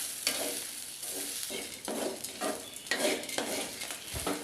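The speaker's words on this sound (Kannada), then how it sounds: "ಹಾಗಾಗಿ ಒಂದು ಸ್ವಲ್ಪ ಅದು ಬಾಡುವಷ್ಟು ನಾನು ಅದನ್ನು ಫ್ರೈ ಮಾಡ್ಕೊಳ್ತೇನೆ" Ridge gourd with tamarind frying in a pan for chutney, a soft sizzle broken by repeated scraping stirs at an uneven rhythm, close and fairly loud with no talk.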